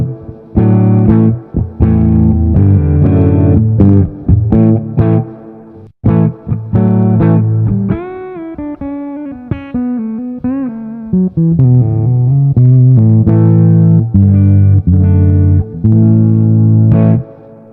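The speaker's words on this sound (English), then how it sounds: "We've got a Marshall JTM 45 here." Electric guitar played through a Marshall JTM 45 amp model gives loud, distorted chords and single-note bends, with rhythmic strumming, brief pauses and a melodic lead passage in the middle, heard alone.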